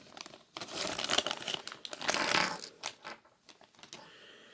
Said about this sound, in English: That's how it comes in this is a Ziploc baggie.